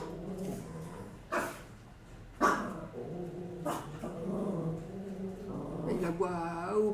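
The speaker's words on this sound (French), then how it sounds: "Il aboie au plafond." A few sharp dog barks break out at intervals amid faint room noise, with a higher whine or yelp near the end.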